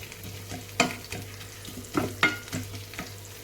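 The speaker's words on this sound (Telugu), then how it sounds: "చిక్కుడుకాయలు అయితే ఉడకబెట్టేసా ఫ్రై చేసేయాలి" Broad beans fry in a pan while being stirred, giving a steady close sizzle punctuated by several scraping stirs at irregular intervals, with no voices.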